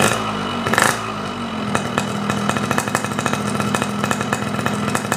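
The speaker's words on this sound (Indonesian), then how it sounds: "Coba kita geber lagi" A two-stroke motorcycle engine running on Gasoli Evolution 2T oil revs up close and loud, with a steady buzzing drone and rapid raspy pulses.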